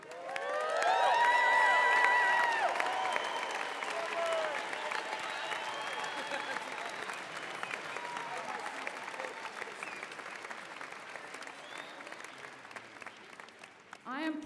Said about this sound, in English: and now let's give them a cheer.